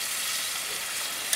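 Oil frying and sizzling in a frying pan over a campfire, a steady dense hiss that stays continuous and fairly loud throughout, with a small clack right at the end.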